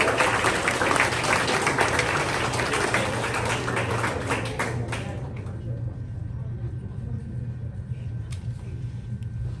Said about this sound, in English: Please give a round of applause to Daniel and Andrew performing Nocturne by Frederick.